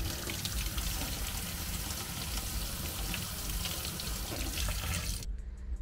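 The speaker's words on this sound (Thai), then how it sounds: "น้ำไหลต่อเนื่องอาการน้ำไม่กระตุก" Water runs in a steady, unbroken stream from a kitchen sink tap fed by a home water pump, a loud close splashing rush that stops abruptly near the end.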